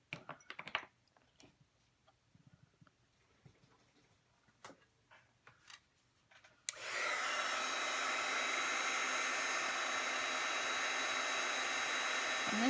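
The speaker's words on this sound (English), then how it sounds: "I'll be using my heat gun to go ahead and bake this white embossing powder." A heat gun bakes white embossing powder on a stamped card: a few soft clicks and handling taps come first, then the gun switches on with a loud, steady blowing whir that continues to the end.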